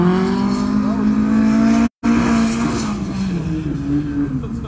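A purple car driven by its driver at winter gymkhana training: a steady loud engine drone holding high revs, with the pitch wavering and sliding as it works the course, briefly cut off midway, voices faintly underneath.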